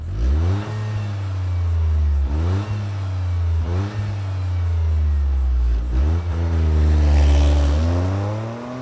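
2023 Toyota GR Corolla Circuit Edition engine revving close up, several sharp rises and falls in pitch over a steady idle, loud and alone with no talk.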